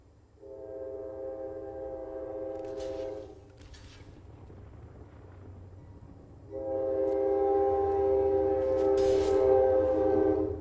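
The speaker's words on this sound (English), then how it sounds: "There's the train." A passing train sounds its horn in two long, loud blasts separated by a short gap, over a low continuous rail rumble.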